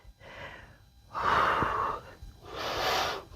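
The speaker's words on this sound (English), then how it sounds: "Arm above head. Inhale. Exhale." Deep yoga breathing in an arm-above-head stretch: a short inhale, then two long, loud, airy breaths in and out close to the microphone, no talking.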